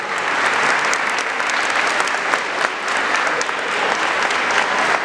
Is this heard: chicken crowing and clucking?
no